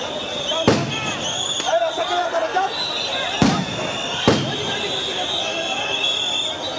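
Police fire sound grenades at protesting teachers at Shahbag. Three sharp, booming blasts ring out at uneven intervals over a constant crowd din, with people talking throughout.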